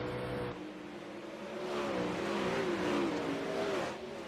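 Race cars on a speedway front straightaway, engines swelling louder as the field rushes past with shifting revving pitch, then easing off.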